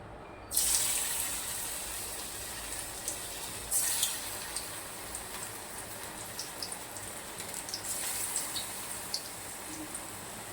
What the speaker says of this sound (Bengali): এবার আমি এগুলো বড়ার আকারে ভেজে নেব।